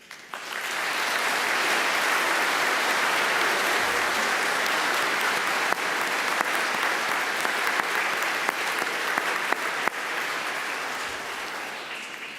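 Sustained applause fills a university graduation ceremony hall as the undergraduate awards conclude, a dense, steady wash of clapping from a large audience lasting about twelve seconds before tapering slightly at the end.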